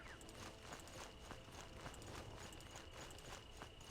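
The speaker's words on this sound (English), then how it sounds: "More horses." Video game horses walk along with a faint, steady clip-clop of hooves, the rhythmic footfalls quiet and distant, with no one talking over them.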